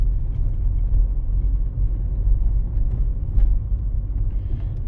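A car drives along Peremohy Street on a city exam route, a steady low engine and road rumble that stays even and fairly loud throughout, with no talking.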